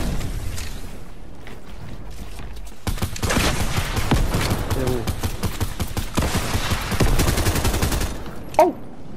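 Rapid gunfire bursts crackle through a Fortnite match, long dense volleys of shots with brief pauses between them, loud and close, while a player talks over the action.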